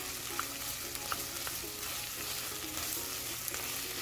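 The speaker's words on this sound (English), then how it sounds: "Now I'm going to be adding the meat that is cut into cube form" Cubed meat fries for a Desi-style baingan gosht over a medium flame, producing a steady, close, continuous sizzle with faint occasional stirring clicks and no talking.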